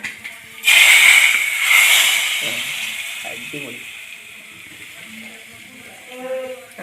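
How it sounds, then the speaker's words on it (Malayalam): Hot tempering of oil with green chili and chili powder is poured into a yellow pulissery curry, giving a sudden loud sizzle that hisses on and slowly fades, with a voice talking quietly underneath. "അപ്പം നമുക്കിത് ആ പുളിശ്ശേരിയിലേക്ക് ഒഴിച്ചു കൊടുക്കാം"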